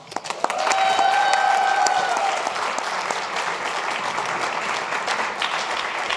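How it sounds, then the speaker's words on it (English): Sustained applause from an audience after a children's choir performance, clapping steady and full throughout with a brief whistle-like tone early on. "So how about another round of applause?"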